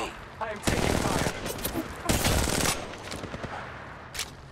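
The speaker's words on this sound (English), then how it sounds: "The enemies are shooting at me. I am taking fire." Rapid automatic gunfire in the mobile shooter Apex Legends Mobile during a ranked match, dense bursts of shots loud and close with brief gaps between volleys.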